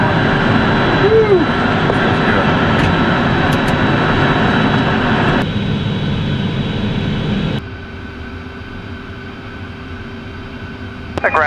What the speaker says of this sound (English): Engine's online and running